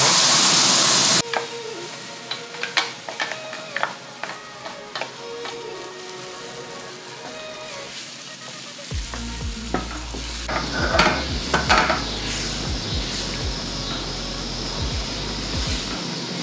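Sambal of chili paste hits hot oil in a pan with a loud burst of sizzling, then is stirred with scraping, knocking spoon strokes that grow busier and more constant toward the end, with no talk.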